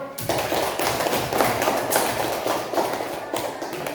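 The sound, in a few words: classroom applause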